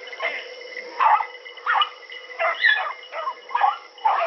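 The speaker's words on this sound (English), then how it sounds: "Dog's going crazy." Hunting hounds running a rabbit bark and bay in quick repeated bursts at a distance, the calls sounding thin and narrow as if heard through a radio or phone.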